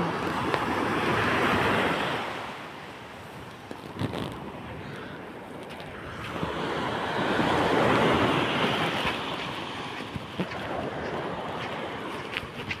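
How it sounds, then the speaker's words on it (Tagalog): Small ocean waves wash onto a beach, two slow surges rising and receding over the stretch, with wind buffeting the microphone and no one speaking. "Malilit yung alon."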